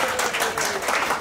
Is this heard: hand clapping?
yes